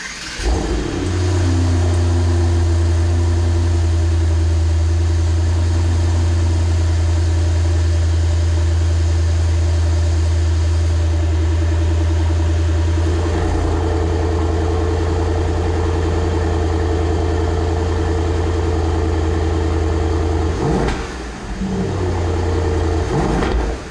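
A 2019 Mercedes-AMG GT 63S four-door idles loudly up close, its deep steady hum droning throughout with a slight change in tone partway and brief dips near the end.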